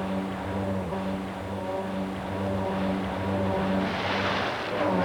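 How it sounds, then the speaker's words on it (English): A jet ski accelerates and tips its nose down to dive underwater, its engine droning in a steady tonal hum that wavers slightly, with rising water rush and splashing building toward the end. "so as he accelerates, the jet ski dives like a duck"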